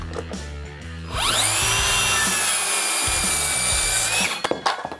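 A miter saw with an Exact Track feature cuts through a 2x4 board, its motor whining up to full speed and holding loud and steady for about three seconds before spinning down, with no talking.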